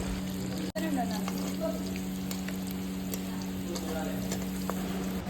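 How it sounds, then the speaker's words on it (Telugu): Chopped onions deep-frying in oil make a steady crackling sizzle, joined by intermittent stirring scrapes over a constant low electrical hum; no one speaks. "ఇలా డీప్ ఫ్రై అయ్యేలాగా ఆ ఎల్లిపాయని బాగా కలుపుకోవాలి"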